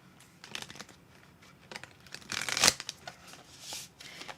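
Tarot cards are shuffled close up in soft riffling bursts of papery flutter and crinkle, with one louder ruffle near the middle.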